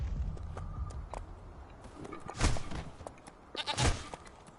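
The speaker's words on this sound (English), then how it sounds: "Fucking killed by a goat." A goat in the video game Conan Exiles bleats twice, a few seconds apart. The calls are fairly close and clear over faint game background noise and soft footsteps.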